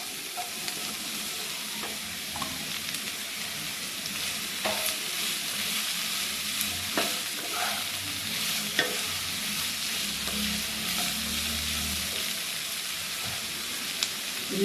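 Capsicum frying in a pan while being stirred, a continuous loud sizzle with occasional scraping and tapping of the spoon against the pan, no voices.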